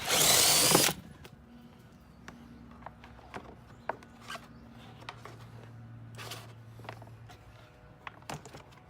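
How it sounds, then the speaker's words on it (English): A power drill bores holes through a wood board for an electrical cord in a homemade chick brooder, a loud close whir at the start followed by quieter clicks and handling knocks. "I'm going to drill a couple of holes in here to feed the electrical cord through"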